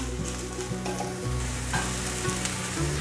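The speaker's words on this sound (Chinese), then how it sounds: "还有长豆， 大略拌炒一下" Shiitake mushrooms, carrots and long beans stir-fried in a pan with potato, a loud steady sizzle with the clatter of a spatula tossing the vegetables, close and continuous.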